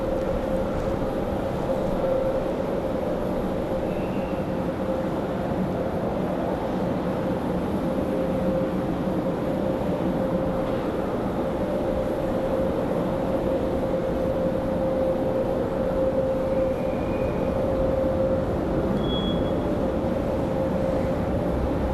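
A departing airliner at Raleigh Durham International Airport rumbles from the distance as a steady, broad, even roar that keeps on without a break after a storm.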